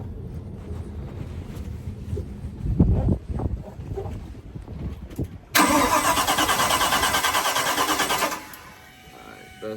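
A Volvo Penta 5.7GI boat engine cranks without catching: a few seconds of faint shop noise and knocks, then a loud, steady starter whir that runs about three seconds and cuts off.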